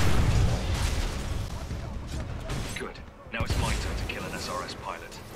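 An explosion in Titanfall 2 gameplay, a heavy booming blast over dense battle noise with gunfire, followed by a brief dip and another burst, while a voice talks over it.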